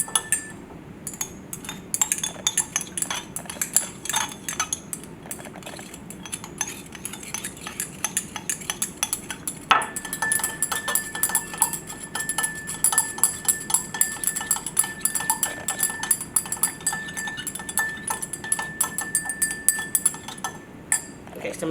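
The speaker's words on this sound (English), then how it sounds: "I'm going to keep on stirring until that blue color goes away" A copper chloride solution with hydrochloric acid being stirred in glassware, a rapid, continuous run of light glassy clinks and taps from the stirring rod, close and alone with no talk, ringing a little brighter after the midpoint.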